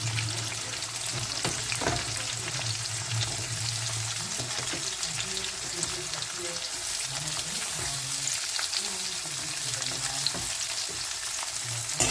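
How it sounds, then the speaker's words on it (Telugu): Thinly sliced onions and green chilies fry in a pan for a mutton curry, producing a continuous, even crackling sizzle at close range, with occasional soft stirring and no speech. "ఉల్లిపాయలు, పచ్చిమిరపకాయలు బాగా వేయించుకోండి మంచిగా"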